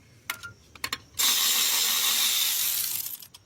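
A few scattered clicks are followed by a sustained, close ratcheting buzz that works on Honda Accord transmission bolts before trailing off.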